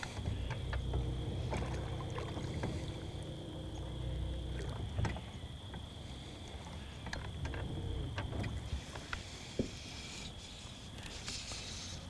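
A small boat moves across water with steady low rumble and sloshing, punctuated by occasional knocks and clunks; no voices.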